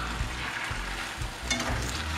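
Steady sizzling and crackling of potatoes frying in a pan, close and fairly loud, with a few soft scraping bumps.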